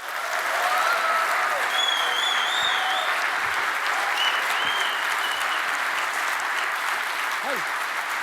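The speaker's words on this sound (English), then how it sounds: "I want to have a big hand, a warm applause for Armin van Buuren" An audience at the Dancefair 2018 event gives Armin van Buuren a warm, steady round of applause, a dense, even wash of clapping with scattered whoops and voices on top.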